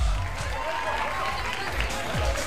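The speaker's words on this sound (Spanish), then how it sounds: "Fuerte el aplauso a la pareja 3." A dance-event audience applauds a dancing couple, a dense wash of clapping and crowd noise that stays even throughout the short stretch.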